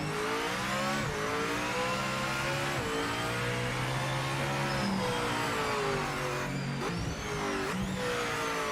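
Race car engines from the racing game Project Motor Racing 2.0, revving steadily and shifting through gears with rising and falling pitch, a brief tire squeal, loud and continuous with no talking.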